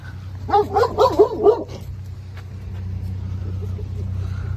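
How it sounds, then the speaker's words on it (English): A big dog barks from inside a truck with its windows halfway down, during a land trip in Alaska. A quick run of four or five close, yipping barks is followed by a steady low vehicle hum. "A dog in this truck here? Trying to come out."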